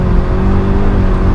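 An Alfa Romeo 4C Spider engine spins up close and loud, a steady, dense mechanical whir and rumble that holds for the whole moment.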